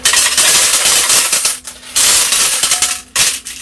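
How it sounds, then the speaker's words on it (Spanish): Coins clatter out of a casino slot machine payout tray in dense metallic bursts, loud and close, with brief gaps between waves of tumbling coins. "el sonido de las monedas"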